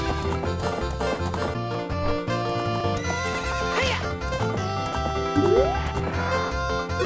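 Epona the horse neighing in Zelda: Ocarina of Time, a clear whinny rising over steady game music, with galloping rhythm underneath.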